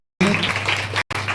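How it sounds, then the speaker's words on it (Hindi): Church congregation applauding a preacher at a prayer house service, a loud, dense burst of clapping that cuts off briefly and then resumes. "जोरदार तालियों को बजाते हैं प्रभु के दास के लिए"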